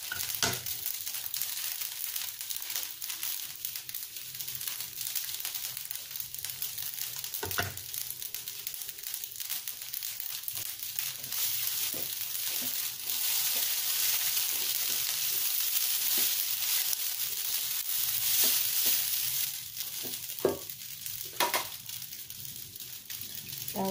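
Fried rice vermicelli (bihun goreng) sizzles steadily in a pan for a long stretch, with intermittent scrapes and clacks of stirring over the continuous hiss and no talking.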